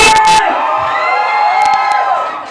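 A packed crowd at a rap battle in a Dubai cafe roars with loud, sustained cheering, whoops and high shouts close up, swelling and slowly fading toward the end.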